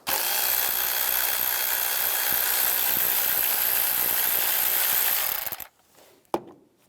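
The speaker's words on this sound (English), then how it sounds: "Take this nut off right here, use a 10mm socket." A socket wrench works a 10mm nut on a 2006-2011 Cadillac DTS engine, a steady close ratcheting whir for about five seconds before stopping, followed by a single faint knock.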